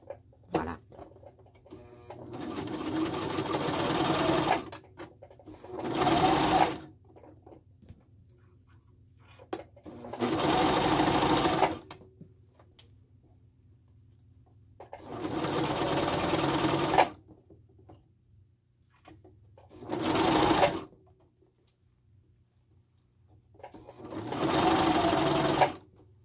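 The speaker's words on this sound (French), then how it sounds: "j'aime bien juste baisser mes aiguilles de ma machine à coudre" A domestic sewing machine stitching knit fabric for a two-piece pyjama sets off in six separate runs of rapid mechanical whirring, with quiet pauses between them. It sounds close and fairly soft.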